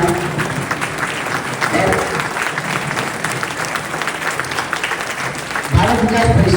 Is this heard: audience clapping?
yes